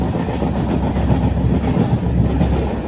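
An LHB-coach passenger train on the Visakhapatnam to Araku line runs steadily at cruising speed, with a dense, constant low rumble and wheel noise heard from on board, no voices.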